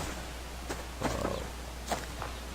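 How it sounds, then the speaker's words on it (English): A wolf growls in the survival video game Subsistence, a few low, rough, rumbling bursts at moderate-to-faint level over a quiet outdoor background. "see that wolf that just growled at me?"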